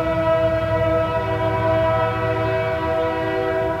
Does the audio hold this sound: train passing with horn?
yes